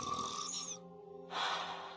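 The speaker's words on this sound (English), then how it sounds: "I think Ave's snoring is goddess level" A character in a gacha video game snores in slow, breathy, rasping pulls, with a short quiet gap between two loud, close breaths.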